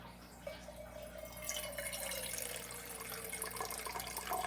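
Water is poured into a quart jar, a steady close splashing fill with rising tone that runs continuously for several seconds without speech.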